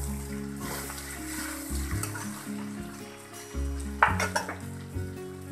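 Ghee-toasted veg pulao rice stirred in a large kadhai over the heat, with a steady sizzle, soft scraping, and a few clinks and knocks of the spoon against the metal pan.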